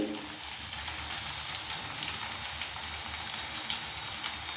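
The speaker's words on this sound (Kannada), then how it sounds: "ಹಸಿಮೆಣಸಿಕಾಯಿ ಆಮೇಲೆ ಟೊಮೊಟೊ ಮತ್ತು ಈರುಳ್ಳಿ ಚೆನ್ನಾಗಿ ಬೇಯಲಿ" Green chilli, tomato and onion fry in a pan with a loud, continuous close-up sizzle that holds steady throughout with no talk.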